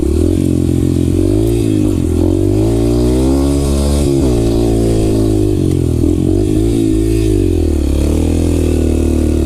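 A 125cc dirt bike rides through a state forest, its engine droning loud and close with steady revving that rises and falls throughout, with no talking over it.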